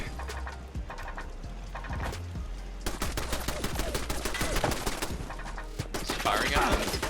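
Rapid gunfire in Fallout 76 crackles in dense bursts of loud shots that grow heavier and more continuous partway through, with a low engine drone underneath.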